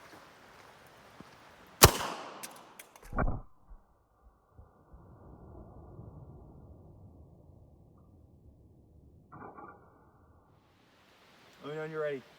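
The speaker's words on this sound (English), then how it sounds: "M1 Garand, M7 grenade launcher, M31 rifle grenade." An M1 Garand fires an M31 rifle grenade from an M7 launcher outdoors: one sharp, loud crack, followed a second later by a duller burst, then quiet ambience and a voice speaking at the end.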